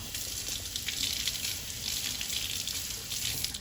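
Running water rinses a sanded epoxy glitter pen, a steady close hiss of flowing tap water splashing over the pen, lasting the whole stretch without voices.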